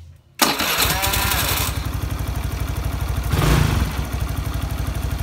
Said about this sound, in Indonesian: Tinggal kita nyalakan ya.